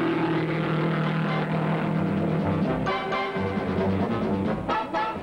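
Bobby Grim's front-engine roadster qualifies at the 1966 Indianapolis 500. A loud, continuous race-engine drone holds steady and then shifts as the car moves along the track, with some brief bursts of noise toward the end.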